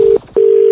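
A steady electronic telephone tone sounds on a call, broken by one short gap before resuming, clean and loud with nothing else around it.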